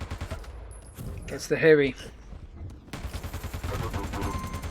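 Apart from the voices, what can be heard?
machine gun fire in a video game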